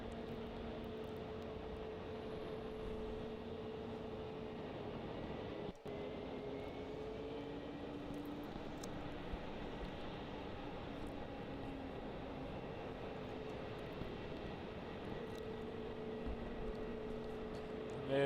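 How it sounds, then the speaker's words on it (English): A Jetstar aircraft moves across Melbourne Airport with a steady engine drone carrying a sustained low tonal hum, constant and moderately distant for the whole stretch, with one brief click partway through and no talking. "There's Jetstar on the move. Off she goes."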